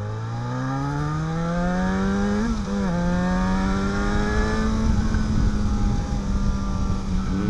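Yamaha XJ6 motorcycle engine revving up and holding a high, whining pitch while riding. The sound is close and loud, with a brief dip in the middle and then a steady climb, and wind noise runs underneath.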